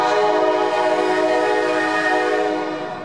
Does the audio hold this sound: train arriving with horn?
yes